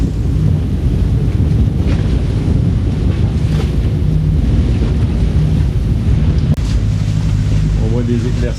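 Strong wind buffets a sailboat at sea off Scotland as a squall passes, with steady loud roaring gusts and broadband wash of waves against the hull throughout, continuous and close.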